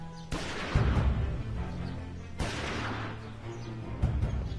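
Two sharp, loud gunshot-like bangs crack out a couple of seconds apart, each followed by a rumbling echo, with a lighter third report near the end.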